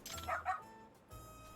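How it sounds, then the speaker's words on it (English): Dog barking in the video game Lost Judgment, a couple of quick yipping barks followed by a brief pause and then a low rumble of game background. "Bark, bark."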